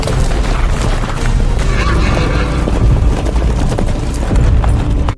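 Horses of mounted troops arriving in a film scene, whinnies and hoofbeats buried in a loud, dense wash of rumbling booms and crashes that runs throughout.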